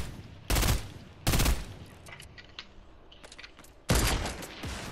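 Bursts of gunfire in a shooter video game strike the player: two loud close shots near the start, a stretch of quieter scattered pops and clicks, then another heavy burst near the end.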